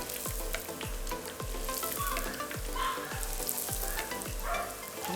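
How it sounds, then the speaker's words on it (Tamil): Puris fry in hot oil with a loud, continuous bubbling sizzle, while regular thumps and scrapes from handling the puris repeat about every half second throughout. "நாங்கள் ஒவ்வொன்றா எடுத்துக்கொண்டு போய் பொரிப்போம்"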